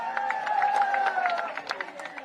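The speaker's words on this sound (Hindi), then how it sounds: "उनके लिए भी जोरदार तालियां।" Applause from a crowd at a Congress party nomination rally for a candidate in Hamirpur, a dense patter of clapping and some cheering heard at moderate distance, with voices and tones ringing over it.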